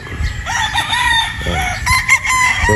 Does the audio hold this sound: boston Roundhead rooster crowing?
yes